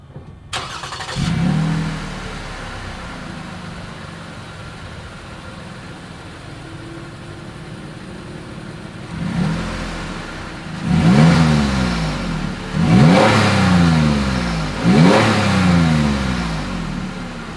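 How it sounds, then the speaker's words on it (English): A 2020 Lexus RX 350 F Sport with dual chrome-tipped exhaust outlets starts up, idles quietly for several seconds, then gives four loud, rising revs in quick succession, heard alone. "As always, here is that exhaust clip."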